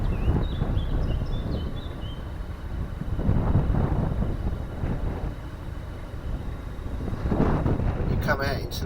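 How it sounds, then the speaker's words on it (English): Steady wind buffets the microphone on an open stretch of canal during a narrowboat trip, a continuous low rumble that swells and eases in gusts with no speech. "I'm really noticing this wind getting worse and worse as I'm going."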